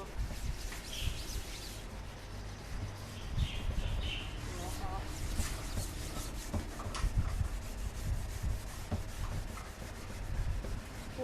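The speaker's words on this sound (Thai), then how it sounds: "ใช้ฝอยเหล็กขัดก็ได้ ตรงไหนที่มันดำเราก็กดใช้แรงกดหน่อยนึง" Steel wool scrubbing the blackened surface of a crepe griddle, pressed down hard, gives a steady abrasive rubbing that runs the whole time at moderate loudness, with no one speaking.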